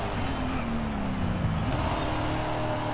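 Car engine in the racing game Forza Horizon 5, revving with a rising then falling pitch as it shifts gears, close and moderately loud.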